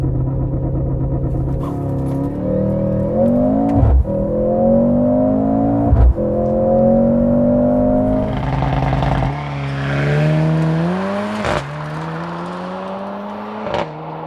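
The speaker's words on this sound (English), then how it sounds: "2024 Mercedes AMG GLC 43. With race start." A 2024 Mercedes-AMG GLC 43 launches from a race start, heard from inside the cabin as the engine note climbs through several gears with sharp shift breaks, loud, steady and rising, no talking.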